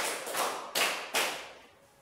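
A classroom of students claps in unison as part of a counted routine, a few sharp group claps close by, the last two bursts distinct and loud before fading into quiet.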